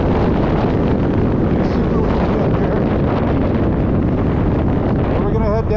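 Strong, steady wind at a crater in the Negev Desert roaring across the microphone, a loud broadband rush that buffets continuously throughout.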